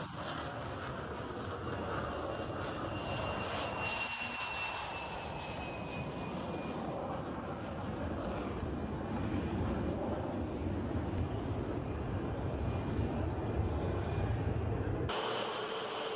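An aircraft engine drones steadily and loudly throughout, a chase plane flying alongside a test flight, with a faint whine gliding downward in the middle.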